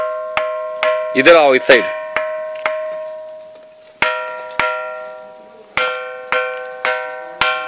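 Sharp metallic bell-like rings from a struck stone at the Mahakali temple in Ahmedabad, repeated in irregular clusters with long ringing decays; a voice briefly speaks in between.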